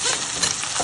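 Potatoes fry in hot oil with cumin and chopped chilli, giving a close, continuous sizzling hiss with no talk.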